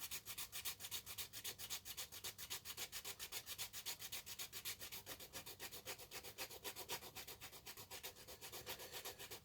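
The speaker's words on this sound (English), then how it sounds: "This sanding block's a lot better, a lot bigger." A sanding block rubs back and forth over a plastic Ford Escort Mk1 Scalextric slot car body in fast, even strokes, a close, quiet scratchy rasp with a regular rhythm.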